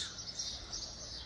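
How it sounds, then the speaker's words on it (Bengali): Many birds chirp together in roadside trees on the route from Siliguri to Darjeeling, a dense, steady chorus of high tweets held at a moderate distance without pause. "সব পাখির আওয়াজ শোনা যাচ্ছে।"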